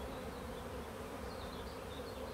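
Honeybees buzzing at a swarming hive, a dense, even hum from many insects close by, steady throughout with no voices.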